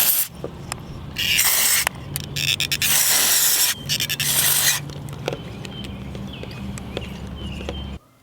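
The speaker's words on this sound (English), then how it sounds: "spray a good amount of contact cleaner into the pot, then work the pot back and forth" Contact cleaner is sprayed into the volume pots of a guitar and the pots are worked back and forth: several loud hissing spray bursts alternate with scratchy rubbing and clicking, close to the microphone.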